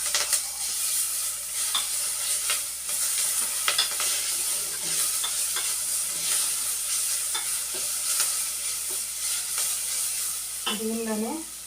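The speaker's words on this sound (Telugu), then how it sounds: "అల్లం వెల్లుల్లి పేస్ట్ కొంచెం వేగేంత వరకు వేయించుకోవాలి." Ginger garlic paste fries and sizzles in hot oil while a spoon stirs and scrapes the pan, a steady close hiss with scattered clinks, as a curry of brinjal and tomato is cooked; a voice briefly sounds near the end.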